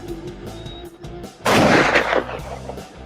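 A sudden loud burst of gunfire erupts in a video game, a heavy, booming volley lasting about a second after a quieter ambient stretch.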